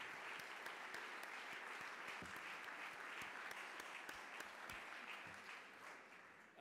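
An audience at a Spain U.S. Chamber of Commerce gala applauds its board members with sustained, dense clapping that stays loud and steady throughout, then eases slightly toward the end.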